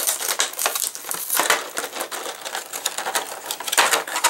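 Plastic packaging crinkles and crunches as a Transformers Masterpiece KO MP-20 Wheeljack figure is pulled free, a close, continuous run of crackling with sharp snaps through the whole stretch.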